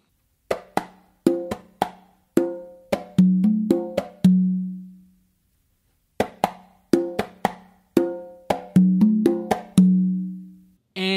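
Three congas play a cumbia rhythm, with sharp open tones and slaps in a steady repeating pattern and an open stroke on the tumba. Two phrases sound close and alone, separated by a short pause.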